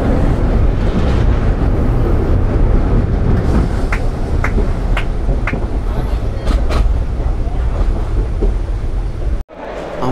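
A train travelling from Kolkata toward Murshidabad crosses the Jalangi rail bridge over the Jalangi river, with a loud, steady rumble and scattered metallic clanks that cut out sharply near the end.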